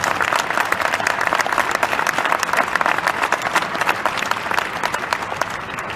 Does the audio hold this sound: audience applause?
yes